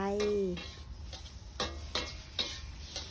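Mantis shrimp are stir-fried dry with fresh chili and garlic, with a soft sizzle and repeated scraping, tapping strokes of a utensil against the pan; a brief voice is heard at the start.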